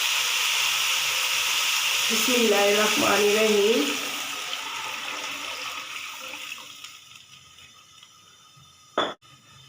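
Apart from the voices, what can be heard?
water poured into pot of fried spices for pulao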